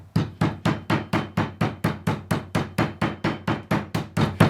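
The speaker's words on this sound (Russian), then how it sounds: "я каждый кусочек отобью молотком" Rapid, steady pounding of a meat mallet on beef slices, about fifteen evenly spaced thuds in quick succession, close and loud.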